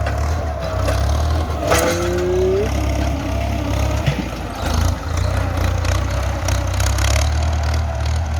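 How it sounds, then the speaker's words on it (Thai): A Ford tractor ploughing a weedy rice field, its engine holding a loud, steady low rumble close by, with a brief higher whine and a few knocks over the drone. "แรงรถไถฟอดเลยนะครับ"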